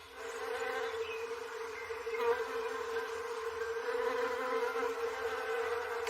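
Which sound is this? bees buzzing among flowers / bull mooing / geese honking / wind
bees buzzing among flowers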